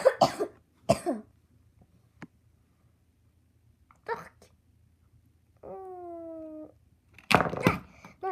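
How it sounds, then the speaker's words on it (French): A few short, sharp coughs break a quiet room, followed by a brief tonal cry and another cough burst. "Désolée si je vais tousser dans cette vidéo."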